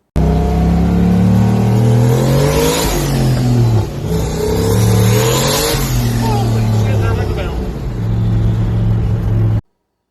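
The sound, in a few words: turbocharged LS 1969 Ford F100 accelerating, spinning tires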